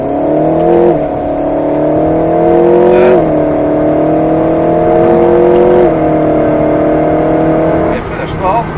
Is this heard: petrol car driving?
yes